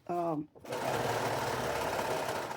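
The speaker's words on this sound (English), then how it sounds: "So my machine has my serging machine has a little gathering dial on it, and that's what I'm fixing to do." A serger sewing machine gathers fabric on a thrifted jacket. It runs in a fast, steady, buzzing stitch rhythm, close and loud, right after a brief spoken word.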